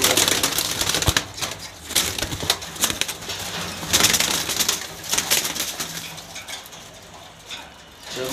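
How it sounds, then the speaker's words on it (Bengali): Mili pigeons, a prized fancy breed kept in a loft, coo and rustle close by, with soft repeated calls, wing flutters and scuffling spread through the scene. "অনেক সুন্দর মিলি কবুতর আপনারা দেখতে পাচ্ছেন"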